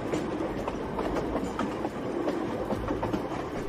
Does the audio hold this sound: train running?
yes